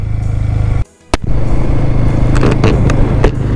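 A motorcycle carrying a pillion rider and rear luggage on a sandy mountain route, its loud engine roar briefly cut by a sharp dropout and crack, then resuming with rough knocks and rattles.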